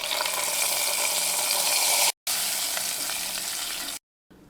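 Hot tempering for Kalan curry, a Kerala sadya dish, sizzles loudly and steadily, a dense crackling hiss broken by two short gaps.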